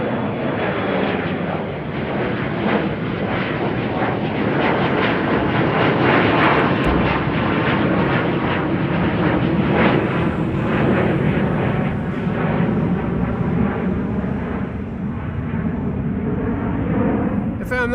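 Embraer jet departing Amsterdam Schiphol on a sunny day, a loud, steady broadband engine roar that holds strong throughout without fading, with a voice talking over it.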